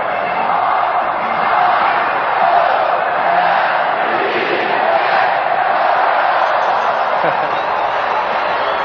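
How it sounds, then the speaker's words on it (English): A baseball stadium crowd at the 1979 World Series, Pirates at Orioles, makes a steady, loud, far-off roar of cheering and shouting that runs the whole time without a break. "there's Wild Bill Hagee getting ready for the cheer"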